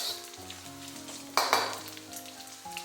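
Diced pork belly sizzles in a hot, dry wok as it renders its fat, with a steady close frying hiss and a sharp stirring scrape partway through.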